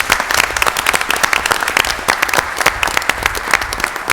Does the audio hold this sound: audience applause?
yes